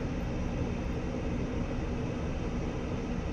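A steady, loud jet engine roar as an Su-27 taxis in a flight simulator game, a continuous broadband rumble with no breaks or voices.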